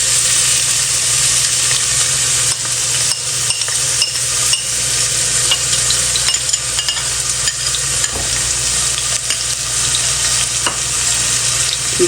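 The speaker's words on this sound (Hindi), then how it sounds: "हाफ़ कप हम इसमें ऑयल डाल देंगे। और इसमें सारे प्याज डाल देते हैं।" A loud, dense sizzle from onions frying in half a cup of oil runs continuously, broken by repeated stirring scrapes, with no talking.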